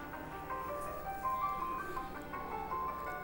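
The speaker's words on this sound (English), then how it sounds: "let's see what it sounds like if we get the enhanced sound on this version" Castlevania 3 Japanese version music with enhanced sound plays on a Nintendo PlayChoice-10 arcade machine: a quiet, distant chiptune melody with bright bleeping notes over a low background hum.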